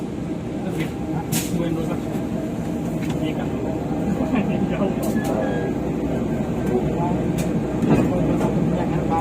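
A railway locomotive in Indonesia moves as a steady, low, rumbling drone with faint clanks, while people talk over it throughout.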